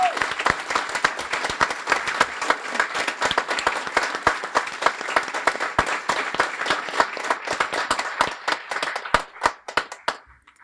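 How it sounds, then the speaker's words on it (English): Sustained, dense applause from a graduation audience for volunteers, many hands clapping steadily and loudly before thinning out to a few scattered claps at the end. "please stand so that we can give you a well-deserved round of applause"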